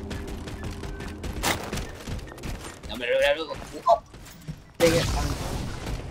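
Gunfire in the video game Halo 4 comes as a rapid burst and a few heavy blasts among mechanical game effects, mixed with excited talk from players.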